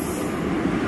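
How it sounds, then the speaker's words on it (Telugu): A train pulls into the station at Cheepurupalli, giving off a steady broadband rumble of wheels and carriages that sounds close and continuous for the whole moment. "ట్రైన్ వస్తుంది చూడండి ఫ్రెండ్స్."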